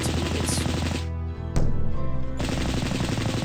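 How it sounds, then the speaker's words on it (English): Rapid machine-gun bursts in Warhammer Epic 40,000 battle, aimed at a Thunderhawk: loud continuous rattling fire, a brief gap with a low rumble, then a sharp crack and more sustained automatic gunfire. "Quit shooting at my Thunderhawk."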